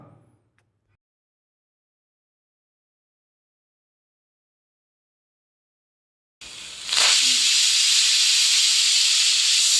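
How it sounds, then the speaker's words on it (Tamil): After a long silence, a loud steady hiss of steam suddenly bursts out of a pressure cooker whistle and continues without letting up. "ஒரு விசில் வந்து ப்ரெஷர் அடங்கிடுச்சு"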